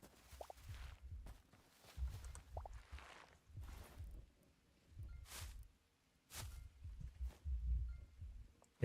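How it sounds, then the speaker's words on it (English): Rhythmic low heartbeat thumps from the Hytale video game, a hardcore-mode survival game, pulsing steadily in soft pairs at moderate volume with no voices over them. "The annoying heartbeat thumping sound."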